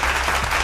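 Dense crowd applause fills a brief moment, a steady wash of clapping with no gaps, loud and close, behind a college football game's commentary.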